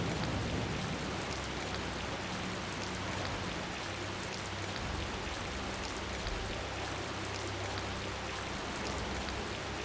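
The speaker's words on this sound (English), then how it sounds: "Ooh, it's raining." Steady, dense rainfall spattering on surfaces in the port town of Capua Nor in the video game Tales of Vesperia, a continuous close hiss with no voices.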